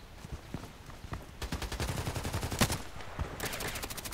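TT pistol fired at long range in the online shooter Contract Wars, a handful of faint scattered shots early, then a faster string of sharp reports and closely spaced bursts, all fairly quiet.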